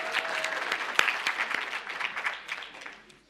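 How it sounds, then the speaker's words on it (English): Brief audience applause at an anti-monopoly summit, a lively burst of close, crisp clapping that tapers off within a few seconds. "We can clap for that."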